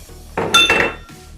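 A utensil stirs roast chicken paksiw with Mang Tomas sauce and sugar in a cooking pot, making one short burst of metallic clinks and scraping against the pot, close and clear.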